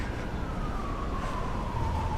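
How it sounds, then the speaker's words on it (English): A police car siren sounds on a New York City street between Williamsburg and Manhattan, one drawn-out wailing tone that slides slowly downward over steady traffic rumble, at moderate distance. "Police car coming in, I'll wait."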